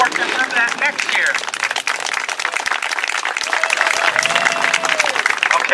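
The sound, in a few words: outdoor audience applause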